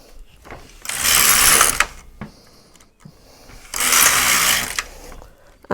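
An LK150 knitting machine carriage is pushed across the needle bed to knit a row during an open cast-on with a ravel cord, making two loud, close whirring, rattling passes separated by quiet clicks.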